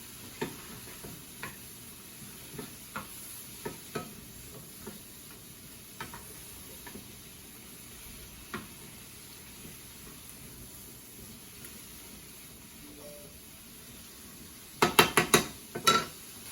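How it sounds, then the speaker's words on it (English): Mushrooms sautéing in a pan are stirred now and then with a wooden spoon. The sizzle stays faint and even, with sparse soft taps of the spoon and a quick burst of clattering near the end. "Saute for 3 to 5 minutes, stirring occasionally, and I'm going to get my nice wooden spoon."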